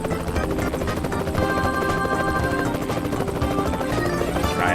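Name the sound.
helicopter in American Truck Simulator video game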